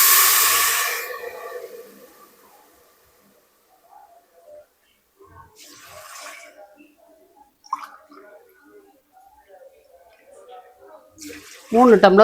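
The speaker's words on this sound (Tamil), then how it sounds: "மூணு டம்ளர் புளிஜலம்" Three tumblers of tamarind water, made from a gooseberry-sized ball of tamarind, pour into a pot for Thanjavur-style puli pongal. It is a loud, splashy gush lasting about a second at the start, followed by quiet kitchen sounds.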